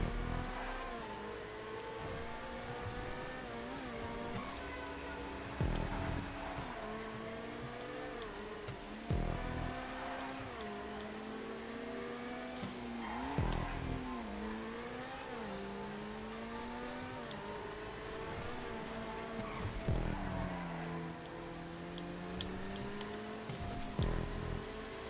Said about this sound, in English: Go, Entity. You rickety old car.